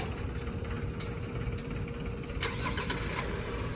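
A Hyundai car engine starts by smart key remote start and settles into a steady, muffled idle hum, heard from close by without any talk.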